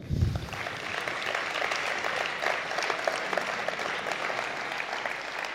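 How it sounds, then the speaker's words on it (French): Delegates at a youth communist congress in Gennevilliers break into sustained applause for the municipality, a dense even wash of clapping from a large hall with a brief thump at the start. "On peut les applaudir."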